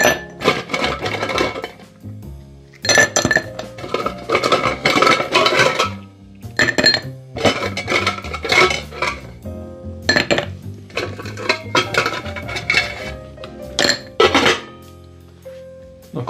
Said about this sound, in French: On va donc remplir notre verre à mélange.